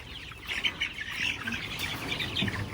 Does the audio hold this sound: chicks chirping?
yes